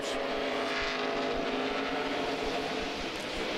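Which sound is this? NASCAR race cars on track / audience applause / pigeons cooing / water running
NASCAR race cars on track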